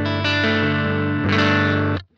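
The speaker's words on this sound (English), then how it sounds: "any distortion or any effect that you're hearing is coming out of the Dystorpia" Electric guitar chords heavily saturated by a Noise Engineering Dystorpia fuzz pedal into a Boss Katana amp set fairly clean, two sustained strums ringing loudly and then cutting off abruptly.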